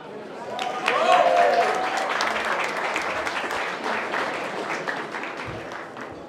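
An audience at a wine tasting applauds, the clapping swelling early and holding steady before easing slightly; a voice is briefly heard near the start under the claps.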